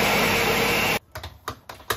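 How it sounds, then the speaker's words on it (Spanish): A kitchen blender runs loud and steady, blending a flan mixture of vanilla and eggs, then cuts off abruptly, leaving a few brief clicks and knocks. "Y ahora lo vamos a licuar."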